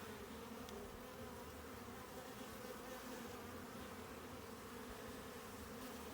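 Honeybees buzzing around an open hive during an apiary inspection in Ballachulish in June, a faint, continuous hum of many wings with no voices.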